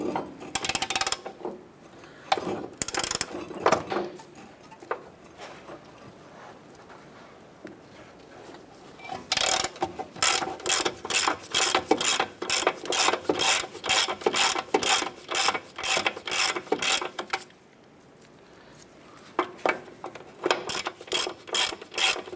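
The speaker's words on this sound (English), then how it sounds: "Using a 17mm socket, I want to go ahead and remove our upper nut here." A hand ratchet with a 17mm socket loosening the upper suspension nut on a 2008-2012 Honda Accord, clicking in rapid, evenly spaced bursts close up, with short pauses between runs of strokes.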